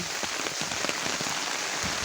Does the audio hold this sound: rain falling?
yes